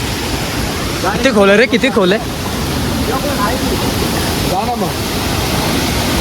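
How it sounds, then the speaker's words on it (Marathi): Steady broadband rush of flowing water at a waterfall pool in Bhandardara, continuous throughout, with people talking over it near the start and briefly again later. "इकडे या साईडला पाणी वाहते"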